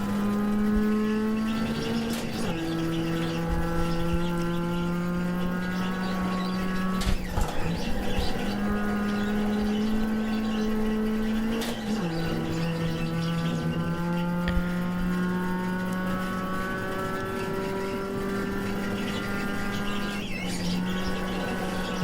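Race car engine in the iRacing sim at Mid-Ohio, droning steadily with rising pitch through the gears, dropping sharply at shifts around 2.5, 7 and 12 seconds, loud and continuous with no talk.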